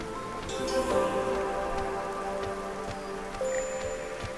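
Rain falls during a storm in the video game Against the Storm, a soft, continuous patter of drops that runs throughout, joined by faint tones and occasional light ticks, with no voices.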